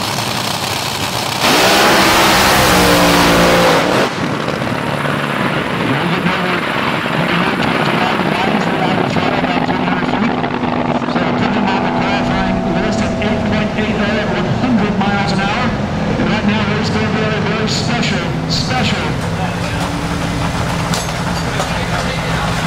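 An AA/Fuel nitro dragster launches at the 2023 Tulsa Nitro Nationals, an NHRA Hot Rod Heritage Series event. A very loud, harsh blast gives way to a long engine roar down the track, with talk over it.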